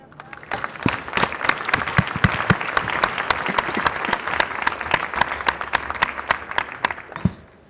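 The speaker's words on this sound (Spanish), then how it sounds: "Primero un aplauso para..." Audience at a book forum gives a round of applause, with distinct, close claps forming a steady, lively patter for several seconds before tapering off at the end.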